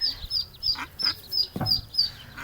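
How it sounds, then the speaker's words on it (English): Mother duck and ducklings in a sewer, with repeated high peeping calls from the ducklings and a few louder quacks from the mother, fairly close and echoing, with no talk. "Here's the mommy. Oh. Here's the little ducklings."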